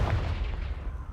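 A Confringo fire spell cast in Hogwarts Legacy lands as one low, booming blast with a rumbling explosive tail that fades over about a second.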